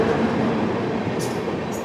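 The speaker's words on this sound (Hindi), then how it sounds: "और अभी हमारे सामने भी एक ट्रेन आ रही है" Jodhpur Express train arriving at Merta Road Junction, a steady, loud rolling rumble of wheels and carriages close by, with two brief high squeals and no voices.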